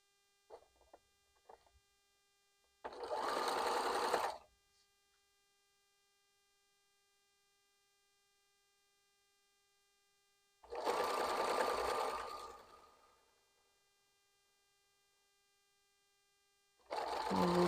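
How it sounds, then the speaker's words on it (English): A quilting sewing machine runs in three separate bursts of rapid stitching, each lasting a second or two, with quiet pauses and a faint electrical hum between them. "back to the sewing machine."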